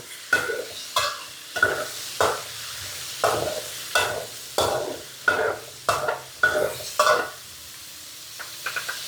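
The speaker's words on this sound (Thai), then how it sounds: "น้ำมันร้อนแล้วเราใส่หมูลงไปผัดก่อนค่ะ" Pork stir-fried in hot oil in a wok for a Thai stir-fry of kanchong greens: rhythmic spatula scrapes and tosses repeat about every half second over a steady sizzle, loud and close, with no talking.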